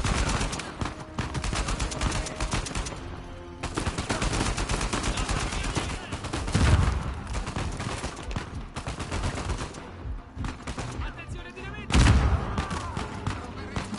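Bursts of rapid gunfire and automatic weapon fire from a firefight in Uncharted 4 rattle almost continuously, with heavier booms around the middle and near the end and a voice talking over the shooting.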